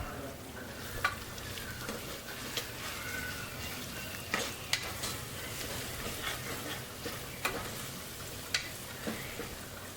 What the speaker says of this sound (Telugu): ఇది పచ్చివాసన పోయేంత వరకు వేయించుకోవాలి